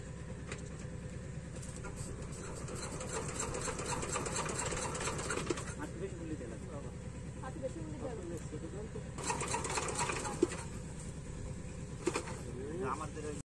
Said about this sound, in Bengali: অনেক সময় ধরেই পাম্প সেট স্টার্ট দেওয়ার চেষ্টা করা হচ্ছে